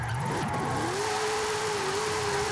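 A huge long limousine in Forza Horizon 5 revs hard while drifting sideways, the engine note climbing and sagging continuously, loud and close, with tire noise underneath.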